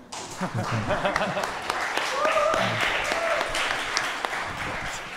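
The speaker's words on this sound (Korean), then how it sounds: "박수 한번." Lecture audience applauding during a hip-hop talk, a broad, steady wash of clapping sustained throughout, with voices and chatter mixed underneath.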